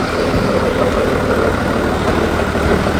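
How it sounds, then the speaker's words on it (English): Caterpillar E320C excavator diesel engine (S6K 3066) idling, a loud, steady low rumble that carries on without letup, close by and with no talk. "We start the engine to show you."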